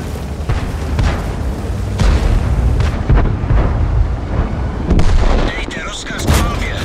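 Tank cannon and artillery fire in a tank video game, several heavy booms and blasts spread across the stretch over a dense rumbling battle din, with voice lines from the game mixed in.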